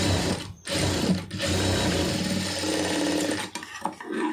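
Sewing machine stitching a fabric seam in a tailoring setup, running loud and close almost continuously, with two brief stops near the start and a stuttering slowdown toward the end.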